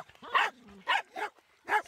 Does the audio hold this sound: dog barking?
yes